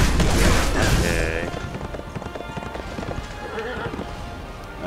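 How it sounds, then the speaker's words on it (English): Horse galloping and neighing in the action game Berserk and the Band of the Hawk, steady hoof clatter with a whinny early on, amid loud battle noise and occasional booms, with someone talking over it. "This horse is fucking powerful."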